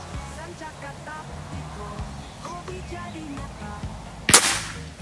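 One sharp report from a PCP air rifle fired at steel targets cracks out near the end, over a low background hum with faint voices.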